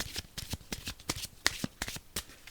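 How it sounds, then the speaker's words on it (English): Cards being riffled and shuffled in quick repeated bursts, close and crisp, with no talking. "So, shuffle them up."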